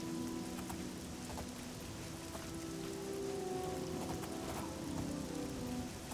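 Steady rainfall in the video game Elder Scrolls IV: Oblivion, a soft continuous patter with scattered droplet ticks over a low musical drone, no voices.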